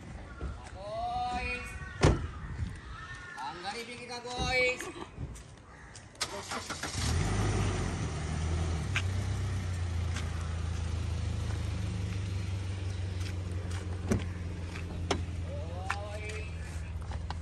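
Toyota Land Cruiser Prado TX Limited, a 2015 model with 43,000 km: people talk nearby, a door thumps shut, then the engine starts and runs at a steady, close, even drone, with a voice briefly returning near the end.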